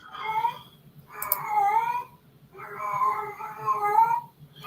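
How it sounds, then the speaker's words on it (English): A cat caterwauls in drawn-out, wavering yowls that sound strained and unnatural, almost like a crying baby, in three long bursts with short breaks between them, loud and close. "the cat does not sound That normal"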